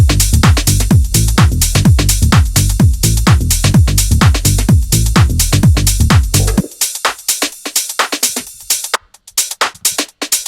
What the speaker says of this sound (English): So the whole drum section would sound like this.